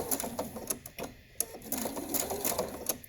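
A sewing machine makes short, rapid, clattering bursts while locking a stitch at the front of a cloth mask with elastic, running close and moderately loud without talk.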